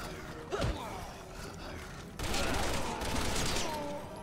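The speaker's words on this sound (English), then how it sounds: "Oh, I can shoot the bars." Ammo Box 50 rifle fire from Resident Evil 6 aimed at metal bars, a faint, fairly distant crackle of shots, a sharp burst early then a denser rattle of fire with metallic creaks, no voices.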